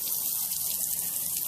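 Water pours steadily from a garden hose, a continuous broadband splashing rush with no breaks, fairly close and alone without any voices.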